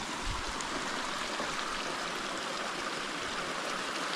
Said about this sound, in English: you can't see the waterfall, but you can hear the waterfall